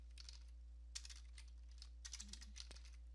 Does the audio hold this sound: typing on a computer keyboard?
yes